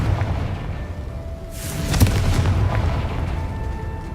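A Confringo blasting spell bursts into a loud, booming explosion in Hogwarts Legacy, a broad roaring blast that swells midway and fades over a steady rumbling game ambience.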